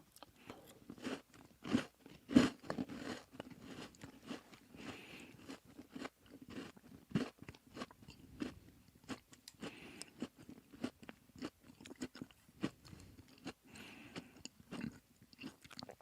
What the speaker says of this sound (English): Sorry about all that chewing noise for those of you guys who are listening.